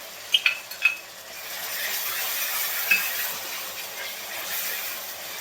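Onion puree for a vegetarian matar keema sizzles and hisses steadily in a pan, with a few sharp scrapes and clinks of a spoon stirring against the metal near the start.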